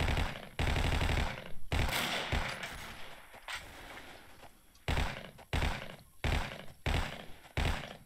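Gunfire in the Vietnam war shooter Vietcong, with loud bursts of automatic fire that start and stop in a ragged rhythm, broken by short pauses and a stretch of quieter battle noise.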